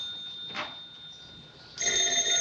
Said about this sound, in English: get your nose out of that paper and answer the phone once in a while